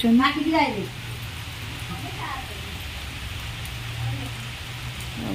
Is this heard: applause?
no